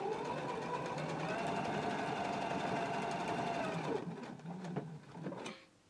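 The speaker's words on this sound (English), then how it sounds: "we're going to top stitch at 1/4 inch right across the top of the flap" A sewing machine runs top stitching across the flap of a pair of pants, with a fast, steady mechanical whirr for about four seconds, then a few short bursts of stitching before it stops.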